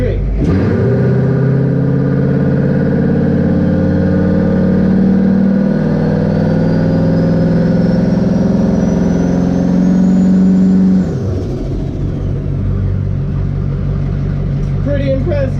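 A 6.5 diesel race truck with an S475 turbo, in first gear and 4-wheel drive, accelerates hard in a long rising engine roar with turbo whine, then cuts back to a lower rumble.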